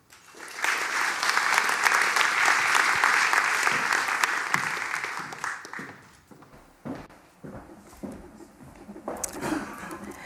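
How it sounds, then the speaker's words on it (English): Loud applause from a crowd at a talk for several seconds, then thinning into scattered claps and small noises. "So give a warm applause for Sharida Kuffour"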